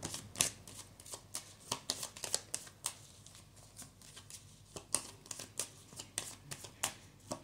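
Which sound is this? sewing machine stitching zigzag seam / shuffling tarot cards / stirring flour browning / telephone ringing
shuffling tarot cards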